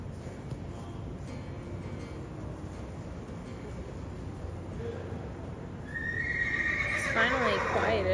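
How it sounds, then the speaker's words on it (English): Background rumble, then from about six seconds a horse neighs loudly nearby, a long shrill whinny that rises and trembles. "This is the horse that you've been hearing, upset because it had just been separated from one of its buddies"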